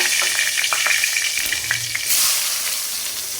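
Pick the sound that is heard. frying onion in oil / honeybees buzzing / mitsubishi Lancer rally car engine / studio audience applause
frying onion in oil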